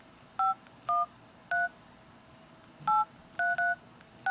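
A ZTE Score phone's dialer keypad plays seven crisp dual-tone beeps while a number is typed, each short and clear, spaced unevenly over faint room noise, with no talk.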